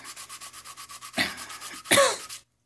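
Steady rhythmic back-and-forth sanding strokes on an old AMT plastic model kit part, close and clear, interrupted by a couple of louder rubbing bursts near the end.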